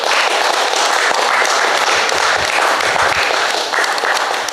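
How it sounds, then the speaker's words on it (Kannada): An audience at a Lions and Leo Club installation ceremony claps loudly and continuously, dense applause filling the hall with no break. "ಜೋರು ಚಪ್ಪಾಳೆ ಕೊಡಿ ರೋಷನ್ ರವರಿಗೆ"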